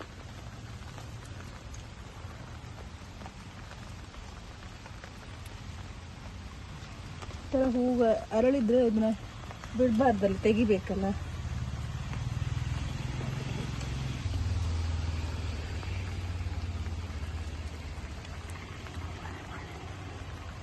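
Steady heavy rain pours down outdoors in a jasmine garden, a constant hiss that keeps on under a woman's speech through the middle.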